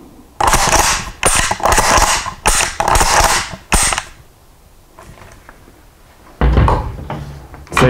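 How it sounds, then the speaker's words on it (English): A straight-pull rifle bolt is cycled straight back and forward several times in quick succession, making loud, close metallic clacks and slides. A pause follows, then one more rattling cycle near the end. "So you're just straight forward, straight back, plus using the trigger."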